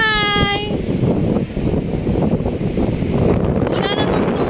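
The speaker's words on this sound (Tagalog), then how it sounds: "Sa sobrang lakas ng hangin." Strong coastal wind buffets the microphone in a steady, loud roar during stormy, rainy weather with big waves, with brief voice-like tones at the start and end.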